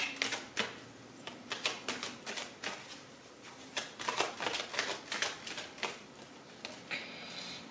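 Tarot cards are shuffled and drawn by hand in a steady stream of quick, crisp riffling flicks and slaps, close and fairly loud, with no one talking.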